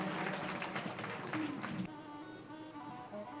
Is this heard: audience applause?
yes